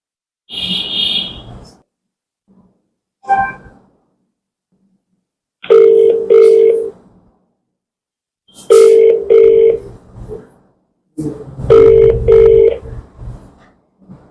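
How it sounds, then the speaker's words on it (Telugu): An outgoing phone call ringing, with loud electronic ring tones repeating in several spaced bursts, separated by silence. "నేను మీ ముందరే కాల్ చేసా మీరే వింటారు ఏం జరిగిందనేది"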